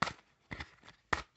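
A deck of tarot cards is shuffled in three quick riffling bursts, each a short crisp rattle of card edges, close up with quiet gaps between and no talking.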